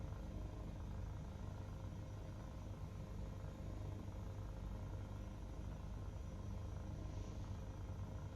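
An Airbus H160 private helicopter in Microsoft Flight Simulator, flying over the Lake District, gives a steady, low droning rotor and turbine hum that holds constant and fairly quiet throughout, with no talking.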